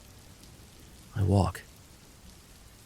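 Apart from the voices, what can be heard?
rain falling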